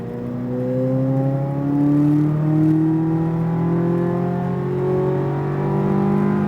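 A Corvette Z06 accelerates on a race track, its engine note climbing steadily in a long continuous pull, loud and close from inside the car.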